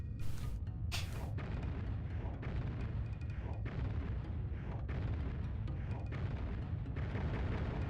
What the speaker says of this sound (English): you can pull it slightly earlier so it will explode right as you get to the stone